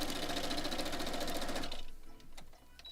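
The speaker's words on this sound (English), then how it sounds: "after we finish sewing these" A sewing machine runs steadily, stitching a foundation paper-pieced quilt block, with a fast, even needle rhythm for about two seconds before stopping, followed by faint handling clicks.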